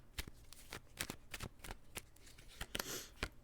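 Tarot cards are shuffled in quick, crisp riffles, about a dozen sharp papery snaps at an uneven pace, close and fairly quiet with no talking.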